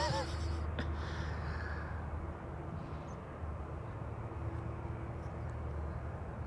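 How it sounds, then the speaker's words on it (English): Delta Airlines Airbus A350 jet departing Amsterdam Schiphol, a moderate, steady engine rumble with a faint whine, fairly distant and continuous, a brief sharp noise near the start. "here we have an A350, the first A350 of the show, Delta Airlines flight"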